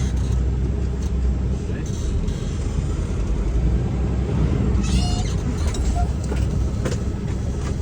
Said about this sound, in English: I'm going to get up to 5 miles an hour, hit my brakes